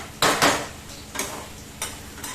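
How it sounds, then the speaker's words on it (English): Arbi, or taro root, being stir fried in a pan, a few sharp scraping and clinking spatula strokes against the metal at an uneven rhythm, close and fairly loud. "Keep on stir frying for another 2 to 3 minutes and then my vegetable is ready."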